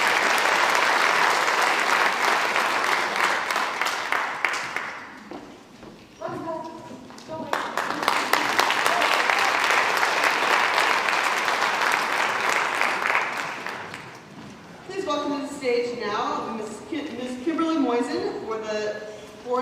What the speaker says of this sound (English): So, applause for Palmer.